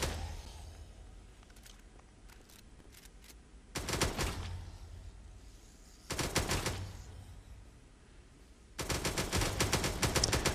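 FAMAS rifle fire in the Roblox shooter Zombie Mayhem, three rapid automatic bursts of a few seconds each with quieter gaps between, close and crisp, with faint scattered shots in the pauses.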